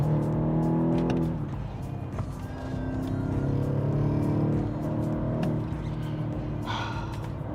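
A 2017 BMW X6M engine revs after a couple of downshifts, its deep note climbing and easing in sustained, nearby sweeps for several seconds with no clear speech.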